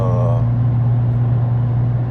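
A V6 Dodge with a 3.90 limited-slip rear end cruises at highway speed, a steady low engine drone and road rumble holding constant and close, with a brief tonal whine fading early on.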